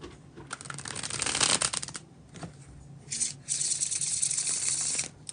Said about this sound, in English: We are going to do the bridge shuffle.